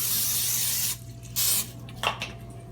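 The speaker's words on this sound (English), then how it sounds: "you can put the olive oil spray on it" Olive oil spray hits a baking pan for sugar cookies in a home kitchen. A long hiss of about a second is followed by two shorter spurts, close and fairly loud, with no talk over them.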